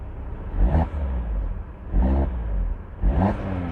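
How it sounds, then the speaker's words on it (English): An Audi RSQ3's exhaust revs up three times in quick succession, each rise a loud throaty burst that falls back to a rumbling idle between blips, heard close with no talking. "it's an RS, so you want to hear that exhaust"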